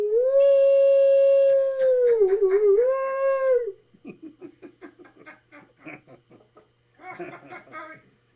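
A person imitates a coyote, holding a long, loud, wavering howl that breaks into choppy yips, followed by scattered laughter and short vocal bursts.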